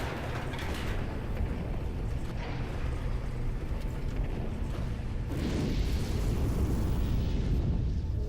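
A bomb explodes in the Halo 3 campaign mission Crow's Nest, a broad low rumbling blast that swells loudly around the midpoint and lingers as a dense roar through the rest.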